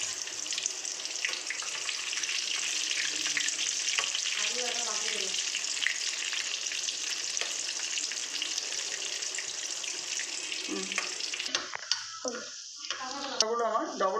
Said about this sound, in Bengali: এইবার আমি এগুলোকে আরও কড়া করে ভাজবো।